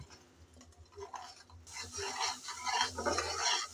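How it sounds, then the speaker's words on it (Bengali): Spice masala being stirred and fried in a pan for a fish-oil curry, with scraping spatula strokes at first that give way to a louder, busy sizzle and crackle. "আমি প্রায় দুই তিন মিনিট নেড়ে চেড়ে ভালো করে মশলা কষিয়ে নিলাম"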